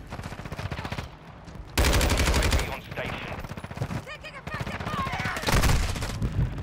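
Call of Duty Modern Warfare II gunfire rattles in rapid automatic bursts, loud and close, broken by short pauses and overlapping with in-game voices and other combat sounds.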